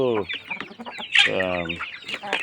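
Country chickens cluck and squawk close by, loud repeated bursts with short pauses, some rising into shrill calls, with no speech.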